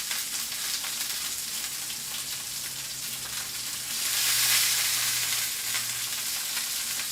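Sous-vide cooked chateaubriand sears in a hot pan with a continuous close crackling sizzle. It swells louder partway through, then settles back to a steady fry.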